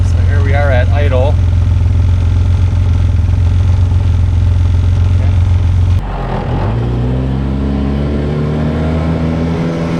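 A UTV engine with sound deadening mats installed idles with a steady low drone for several seconds, then shifts pitch with a rising, sweeping engine tone; loud and close, with speech over it.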